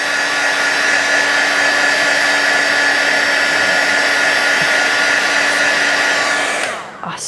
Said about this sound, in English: Let me heat set them because we're going to heat emboss on top.